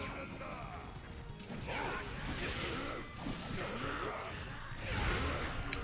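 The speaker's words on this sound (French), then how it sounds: "Un grand coup de séisme vers l'avant, qui envoie une onde de choc un peu plus vers l'avant." Whitebeard's earthquake strike in One Piece Pirate Warriors 4 lets out rumbling, crashing shockwave blasts in several heavy surges over continuous game noise, while someone commentates throughout.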